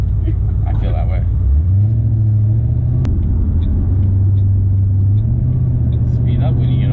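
A car engine rumbles from inside the cabin while being driven, its low drone stepping up in pitch as the car picks up speed, with people talking over it.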